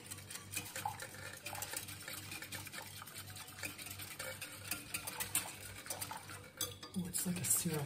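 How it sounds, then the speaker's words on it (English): Hot sugar syrup being whisked into milk for Portuguese custard tart filling: rapid, quiet metallic clinking and swishing of a whisk against a pot, continuous throughout. "Now we wanna keep whisking this."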